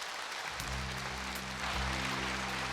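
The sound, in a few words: audience applause welcoming a speaker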